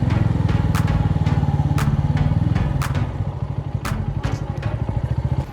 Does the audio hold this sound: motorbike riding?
yes